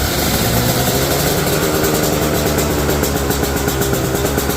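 Small motorbike engine running without an air filter with the choke off, a loud, steady close-up drone with a rough, pulsing low rumble and no pauses.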